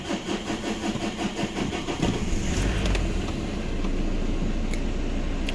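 Ford Ranger Wildtrak 3.0 diesel engine with a fuel problem cranking and firing up, then settling into a steady rumbling idle, close and moderately loud.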